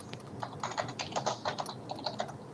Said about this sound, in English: What was that clicking noise?